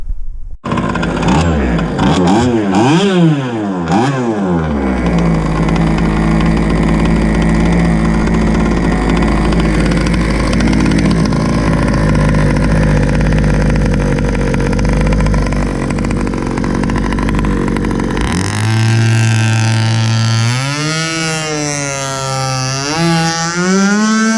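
A nitro RC powerboat, an Enforcer Super G fitted with a tuned pipe, screams at high revs with a few sharp throttle blips, holds a loud sustained whine, then drops back to a lower rising drone, close up.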